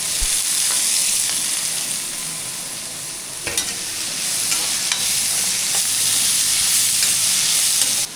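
Onions sauté in a pan for a home-style mixed vegetable dish cooked without tomato, with rock salt added, giving a steady close sizzle with occasional scraping stirs and no voices.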